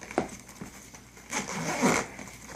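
Top zipper on a wheeled survival backpack with back straps and a telescoping handle, a few short clicks then a long close zipping pull lasting about a second.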